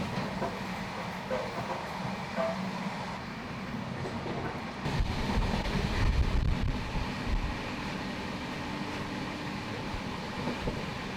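Pune–Howrah Duronto Express running on rails, heard from inside a coach as a steady low rumble with rhythmic wheel clatter and a swell of louder rattling midway, continuous throughout.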